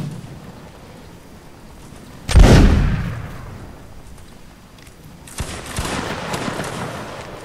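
Musket volleys crack out in a Mount and Blade: Napoleonic Wars line battle, one loud close burst followed by a rumbling tail, then a second sustained rattle of distant shots over a steady battlefield din.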